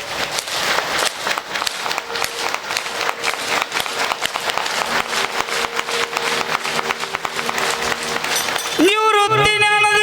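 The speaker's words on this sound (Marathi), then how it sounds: "सगळ्यांनी एक साथ माझ्या बरोबर टाळी वाजवायची." A memorial gathering for a late mother, where the audience claps together as one, a dense steady crackle of many hands lasting several seconds, fairly loud and close, giving way near the end to a sustained musical tone.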